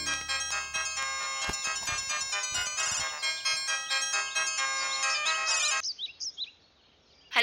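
An electronic phone ringtone for an incoming call plays a bright, repeating melodic tune loudly and alone for several seconds, then breaks off into a few softer chirping tones.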